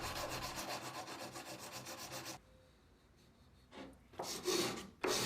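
Wood is hand sanded with 120 grit sandpaper on a block while a guitar neck is being shaped. Rhythmic rasping strokes come up close, then pause before a few louder strokes return.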